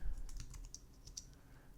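A command typed on a Mac computer keyboard, a quick run of faint, light key clicks, close by and alone.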